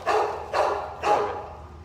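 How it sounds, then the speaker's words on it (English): A young female dog at an animal shelter barks three times in an even rhythm, each bark short and fairly close. "She's a little bit of a loudmouth, but she is a sweet dog"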